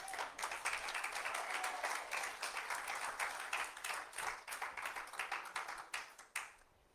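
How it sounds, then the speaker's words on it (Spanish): A church congregation applauds softly and unevenly, scattered individual claps forming a loose patter that thins out and fades near the end. "Y si usted aplaude porque está de acuerdo con lo que dije."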